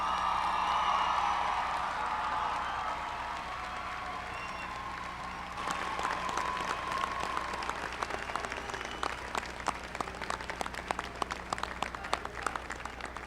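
Audience applause for graduating students at an Iona College undergraduate commencement ceremony in 2017, a sustained wash of many hands clapping in a large hall that grows more distinct and crisp partway through, with scattered cheers.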